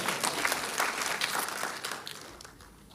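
A church audience claps together in a burst of applause that is loud at first and thins out toward the end, with no clear talk over it.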